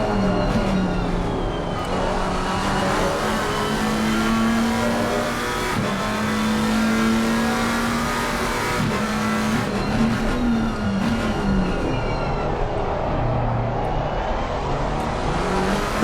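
A McLaren 720S GT3 race car heard onboard at Donington, its engine droning and rising and falling in pitch through gear changes and corners, loud and continuous with no talk.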